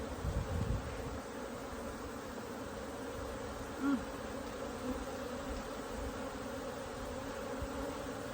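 Honey bees in an open hive hum in a continuous, soft buzzing drone, with a few brief handling sounds rising over it and no talking.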